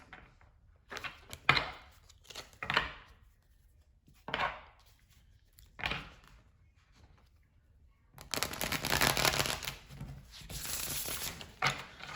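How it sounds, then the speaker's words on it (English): Irregular bursts of tarot card handling, then a long continuous riffling shuffle of the tarot deck near the end, close and fairly loud with no talking. "Let me get one shuffle of these cards."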